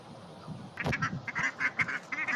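Ducks kept at home, including a pair of Madrasi ducks, quack in a string of short, nasal calls at close range. The calls come in rapid bursts after a brief quiet start.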